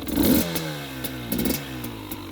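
A 2020 KTM 300 XC TPI two-stroke dirt bike engine is revved in short bursts close by, rising and falling with a buzzy, rattling idle between blips.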